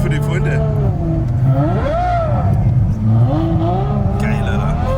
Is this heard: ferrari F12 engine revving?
yes